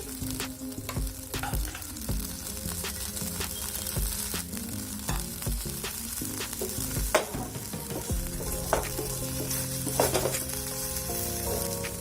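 Chopped chilies being stirred into a jackfruit curry frying in a pan: a steady close sizzle runs throughout, broken by repeated scraping and clinking strokes of a spoon against the pan, with no talk.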